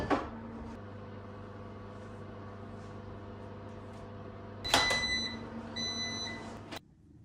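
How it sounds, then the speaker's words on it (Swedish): A microwave oven heating milk hums steadily at low volume in a kitchen, then shifts to a louder whirring with a higher whine before stopping abruptly near the end. "Jag värmer mjölken i mikro."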